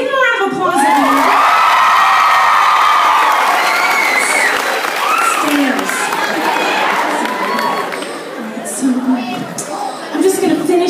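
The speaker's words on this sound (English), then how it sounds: "Give them a round of applause, everyone." A lively crowd at a live comedy show in Dublin erupts in loud cheering, whooping, shouts and applause, sustained and close, easing slightly near the end before swelling again.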